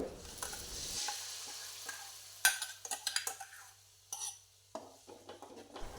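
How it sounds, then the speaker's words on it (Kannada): Onion and curry leaves frying in hot oil in a home kitchen, with soft sizzling crackle and intermittent stirring scrapes and clinks of a utensil against the pan, close by and without talk. "ಈಗ ಎಣ್ಣೆ ಬಿಸಿಗಿಟ್ಟಿದ್ದೇನೆ ಎಣ್ಣೆಗೆ ಈರುಳ್ಳಿ ಮತ್ತು ಕರಿಬೇವು ಹಾಕ್ತಾ ಇದ್ದೇನೆ ಫ್ರೈ ಮಾಡಲಿಕ್ಕೆ"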